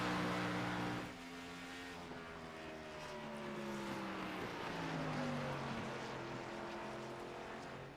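Race car engine in the racing game iRacing, a loud close whine that drops in pitch after about a second as the car passes. It is followed by a steady sustained engine drone with shifting tones.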